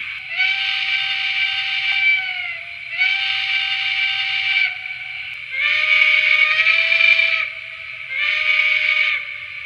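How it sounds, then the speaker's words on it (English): A Lionel Alaska Railroad 0-6-0T model steam locomotive whistle, pitch adjusted, sounds in four sustained blasts, the pitch shifting between them, fairly loud with short gaps and a faint low rumble underneath. "And you can adjust the pitch of the whistle"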